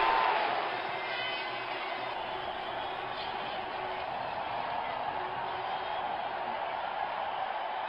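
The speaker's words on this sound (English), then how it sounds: "Crowd senses a flurry of boundary here. They are making some serious noise." Crowd noise at an IPL cricket stadium during a 2022 GT vs RCB match, a broad continuous roar that stays loud and steady without talk.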